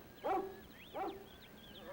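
A film dog gives two loud barks about a beat apart, with faint voices and thin background tones around them.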